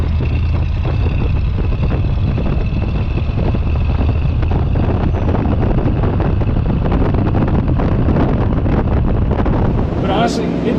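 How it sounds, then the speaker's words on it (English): A 1950 Lincoln Cosmopolitan with a 337 cubic inch Flathead V8 accelerates at a little over half throttle. Its engine gives a steady, loud, low drone heard from inside the sedan, mixed with wind and road noise. "this is a little over half throttle. So Flathead's just pulling it down."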